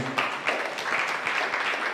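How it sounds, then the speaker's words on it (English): Audience applause at a press conference, a steady wash of many hands clapping at moderate level throughout, with no voice on top. "Let's give a round of applause to him."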